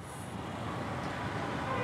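Dense road traffic jam on Manik Mia Avenue in Dhaka, a steady roadway roar of idling and creeping vehicles with a faint horn toot, continuous and close throughout.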